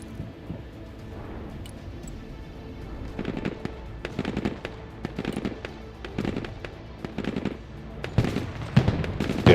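Machine gun fire and explosions in the Broken Arrow real-time military strategy game: rapid bursts of crackling shots recur throughout, growing denser and louder toward the end, with no talking.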